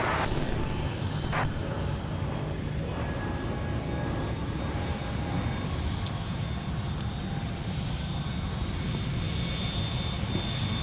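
An airplane taking off from runway 17 at Minneapolis–Saint Paul airport, a steady broad engine roar held at a constant distant level throughout with no break.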